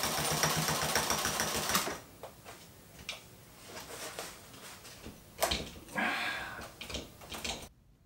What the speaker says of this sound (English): Now I'll just sew around the seam from the inside to capture the raw edges.